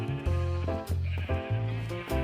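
Sheep in the video game Highworlds Curse bleat loudly and close by, several overlapping wavering calls one after another across the moment, with no speech.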